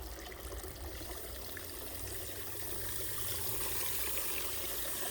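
Water is poured or trickled out for birds in a rocky suburban yard, a faint, continuous splashing stream heard at low level without speech.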